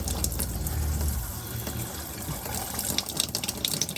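Water runs from an RV fresh water tank through a carbon filter, a continuous splashing flow with gurgling bursts and low rumbling, fairly close and without speech.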